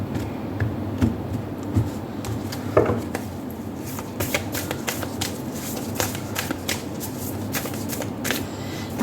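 A Moonology oracle deck shuffled by hand, with soft, rapid riffling and card-slapping bursts, steady and close for several seconds, with no voice over it.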